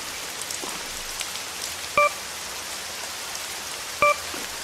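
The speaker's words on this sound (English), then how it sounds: "Great weather. I love the rain" Continuous rainfall hisses evenly in the Subway Horror game, with two short electronic beeps breaking through the steady downpour about two seconds apart.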